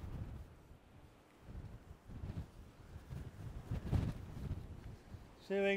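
Gusty wind buffets the microphone on a clifftop by a coastal castle in Ireland, rising and falling in low rumbling bursts, strongest toward the end, with a brief tonal sound at the close.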